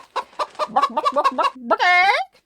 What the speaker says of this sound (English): I don't know who summoned the chicken